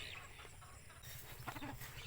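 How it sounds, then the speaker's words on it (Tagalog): Backyard chickens cluck softly nearby in short, irregular bursts over faint rural outdoor background noise, with no one speaking. "mga alagang manok ng aking kapatid"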